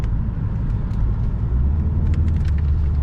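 A Citroen C5 2.0 163HP car drives at 70 through winding curves, giving a loud, steady low rumble of engine and road noise from inside the cabin with no talk.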